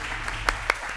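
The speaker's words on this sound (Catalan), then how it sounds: "la felicitem amb un aplaudiment" An audience in a lecture hall gives a burst of applause for a birthday before a talk, a dense wash of clapping with a couple of sharper individual claps standing out, heard only briefly.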